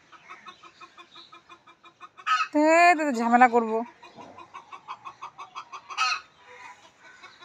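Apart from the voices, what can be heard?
chicken clucking on rooftop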